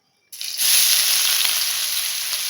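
Green chili and garlic paste hitting hot oil in a wok, a sudden loud sizzle that bursts in after a brief silence and holds as a steady bright hiss, with no talking.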